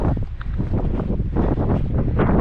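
Cold wind gusts hard across a microphone on a mountain trail in New Hampshire's White Mountains, a loud, close, continuous buffeting roar throughout.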